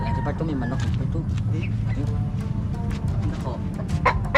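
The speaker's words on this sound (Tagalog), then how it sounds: "Ari pa to may manok ito." A Talisayin rooster or hen clucks close by in a steady series of short calls, mixed with people talking and background noise throughout.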